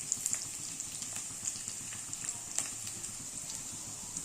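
Onions, chillies, curry leaves and garlic sizzle in a pan for a beetroot fry, a steady close crackle and hiss with faint pops scattered throughout.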